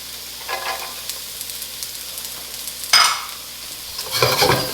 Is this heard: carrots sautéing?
yes